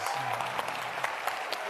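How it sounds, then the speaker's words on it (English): An audience at a global forum event claps in a brief, dense burst of applause, steady and fairly close throughout. "Let's give them a round of applause."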